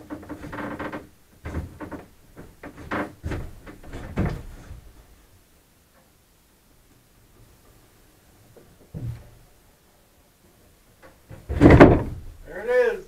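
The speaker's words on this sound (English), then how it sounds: "I'm going to put another hinge at the top of the door for that piece, but it works pretty darn good" A camper door on newly installed hinges swung and knocked several times, with wooden thumps and rattles in bursts, a long quiet gap, then a loud bang near the end.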